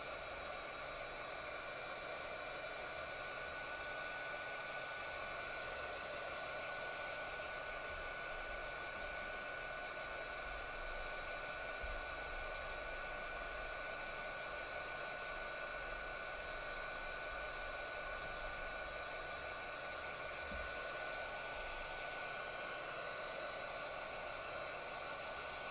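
A hair dryer blows steadily on a painted craft gnome, a constant close whooshing hiss of fan and airflow that never changes pitch and runs alone for the whole stretch.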